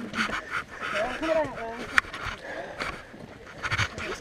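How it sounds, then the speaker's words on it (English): Hikers breathing heavily while climbing Kilimanjaro, audible panting and breaths mixed with people talking and murmuring nearby. "Everyone's breathing heavy."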